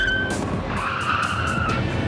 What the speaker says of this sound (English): I guess the brakes work.